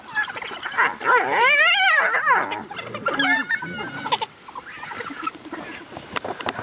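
African wild dogs and a hyena squabble over a fresh kill, with loud rising whoops, twittering and yelping calls overlapping in a noisy outdoor scene.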